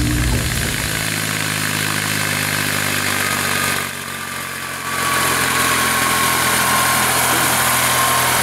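A tractor engine runs steadily up close, with a loud mechanical drone and a vibrating hum. The sound dips briefly partway through and then comes back to full strength.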